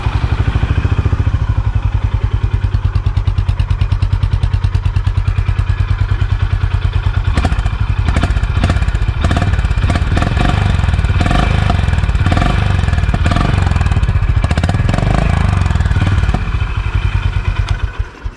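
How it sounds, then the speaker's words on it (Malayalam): A Honda Highness CB350 motorcycle engine thumping at idle, a loud, rapid, steady low pulse from the exhaust close by, with some clattering and blips of throttle in the second half. "ഈ ഒരു മോഡലിൽ ഇനി തമ്പിങ് സൗണ്ടോട് കൂടിയിട്ടുള്ള ഒരു എഞ്ചിൻ ആണോ"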